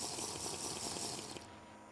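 Water being cleared in the Minecraft video game: a brief, continuous rushing and gurgling water sound that fades slightly near the end, heard alone without talk.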